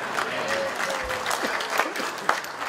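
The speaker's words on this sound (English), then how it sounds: "Yeah, you're applauding now" An audience applauds a retired former soldier, now an NRA certified instructor, during his talk; broad steady clapping fills the clip with a few sharper claps standing out.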